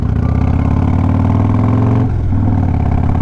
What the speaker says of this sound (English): this bike is now just a little bit excessively loud